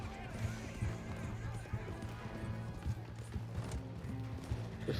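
A fast horse gallops in a Red Dead game, steady rhythmic hoofbeats under a busy mix of game sound, with speech present.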